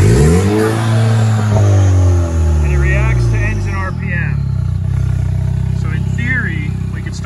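A buggy engine on a dyno revs high, then its pitch slowly sinks and hangs before settling into an uneven idle, loud and close throughout with no voices.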